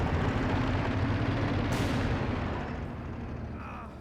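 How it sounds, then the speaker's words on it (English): Mortars firing in a Company of Heroes 2 battle between German Ostheer and Soviet forces: a continuous rumbling wash of distant booms and gunfire, dense and steady, easing slightly toward the end. "Ostheer mortars are doing pretty well in the center. Soviet heavy mortars a little bit further back."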